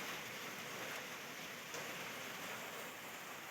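Steady rain pours down in an even, dense hiss, continuous and fairly close, with no voices over it.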